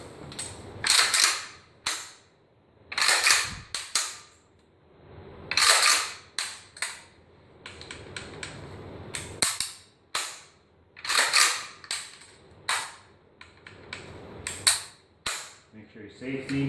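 A Saiga 12 shotgun undergoes a function test, with repeated sharp snapping clicks of trigger and sear release coming in loose clusters against a quiet background, fairly close and crisp.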